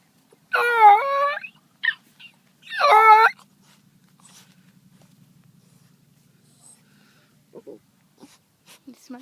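A bluetick hound whimpering and whining in drawn-out, high, wavering cries, two clear bursts near the start followed by quieter soft whines and faint footsteps, close by.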